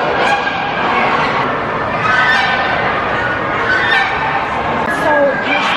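Chickens cluck and squawk in a busy hall at the Ohio National Poultry Show, with several birds calling over one another close by amid a steady crowd murmur and some speech.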